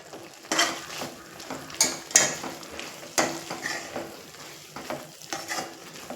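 Sesame seeds in a pan with peanuts and roasted gram tipped in, stirred over a faint sizzle, with repeated close scraping and rattling strokes of a spoon against the pan.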